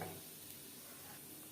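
Panch phoron spices sizzling in hot oil in a wok just used to fry bata fish, a faint steady hiss with light crackle throughout the short moment.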